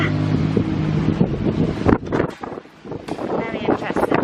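Strong wind gusts buffet the microphone with loud, uneven rumbling and flapping bursts, while a voice talks over it.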